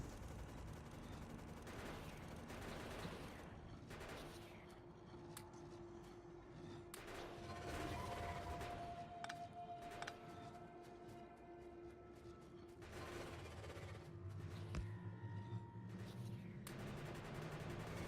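Automated gun turrets fire in Factorio, a steady stream of rapid game gunfire with thuds and impacts running through the whole stretch, dense and continuous rather than separate shots.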